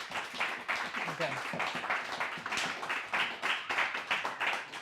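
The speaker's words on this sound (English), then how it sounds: "I accept your applause." Steady audience clapping fills the clip, a dense patter of many hands with some voices mixed in beneath it.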